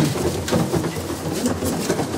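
Pigeons, including a purchased female, cooing at a Punjabi pigeon-keeping gathering; soft, low repeated coos run steadily through the whole stretch amid a busy, noisy background, with no clear talk over them.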